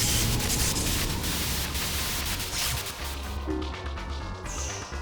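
Dense, loud static hiss fills the screen transition that signals the start of a battle in the .hack//G.U. role-playing video game, a continuous broadband roar with crackling, crashing textures and no talk.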